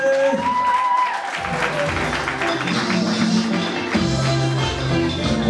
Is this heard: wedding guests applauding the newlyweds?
yes